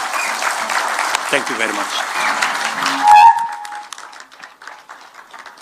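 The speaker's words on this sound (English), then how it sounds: "Another round of applause for His Excellency" Audience applause for His Excellency at a Scott Christian University graduation ceremony in Machakos: a dense, steady burst of clapping for about three seconds, which fades as a voice speaks briefly.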